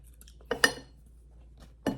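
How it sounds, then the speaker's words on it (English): Cutlery cutting through a crispy, lacy fried egg on a plate: three sharp metallic clinks and scrapes, close and clear, separated by quiet pauses. "But I'm just gonna cut my egg."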